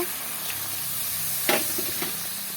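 Water poured into a sizzling spice masala for potoler dorma, stuffed pointed gourd: a constant hiss of frying, then a sudden loud burst of spitting steam about midway that quickly settles back.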